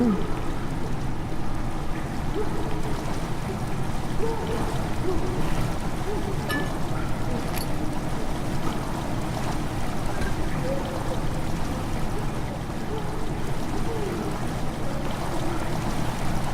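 Steady, continuous rush of water flowing into a chamber in the video game Amnesia fills the background at an even level throughout, with a faint voice briefly audible at times.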